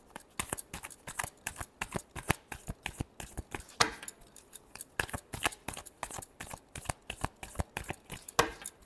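Tarot cards being shuffled by hand, a quick series of crisp riffling snaps and slaps in an irregular rhythm, close and fairly quiet with no talking.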